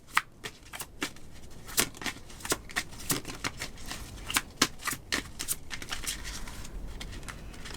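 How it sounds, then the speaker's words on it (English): Tarot cards are shuffled close up, producing a rapid series of crisp flicks and riffling snaps in an uneven rhythm that runs throughout at moderate volume, with no talking. "Let me reshuffle."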